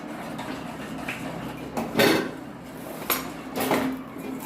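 A spoon stirs yogurt gravy in a cooking pot for Rajasthani gulab jamun sabji, making soft scraping and a few distinct metallic knocks against the pot, close and fairly quiet.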